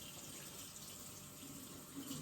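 Tap water runs steadily into a sink while hands are rinsed, a soft, even splashing stream at low volume with no talking.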